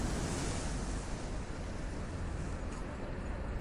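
Violent ocean waves crash over a barrier, making a dense, roaring wash of surf and wind noise. It stays loud and continuous throughout, with no talk.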